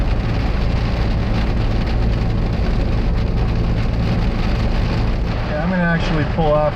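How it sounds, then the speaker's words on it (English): Heavy rain drums steadily on a moving RV during a downpour, a constant loud roar with road noise, and a brief squealing sound rises near the end. "Crazy amounts of rain right now."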